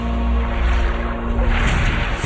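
Rushing water and ocean-like surf with a steady wash of wind, loud and continuous, opening the Avatar: The Last Airbender intro.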